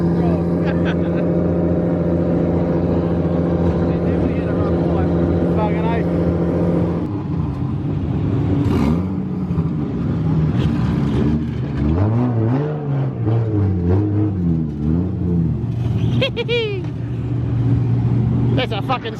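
A drift car's engine revs at Bay Park during a D1NZ drift event, first holding a steady loud idle-like drone, then surging and falling in repeated rising and dropping revs, close and loud under occasional voices.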